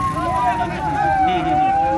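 An ambulance siren wails on National Highway 152 as a farmers' blockade opens to let it through a traffic jam. It is a loud, steady tone slowly gliding in pitch over road noise, with voices talking nearby.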